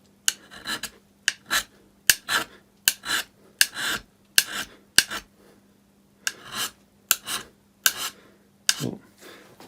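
Hand scraping the flats of a Myford lathe cross slide with a scraper, a series of short rasping strokes in an uneven rhythm with brief pauses between them, close and fairly quiet, no talking.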